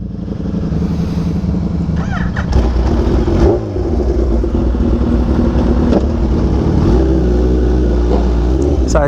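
Kawasaki Ninja H2 motorcycle riding and accelerating on a freeway, a loud steady engine drone with rising pitch sweeps as it revs, heavy wind rush throughout and no talk over it.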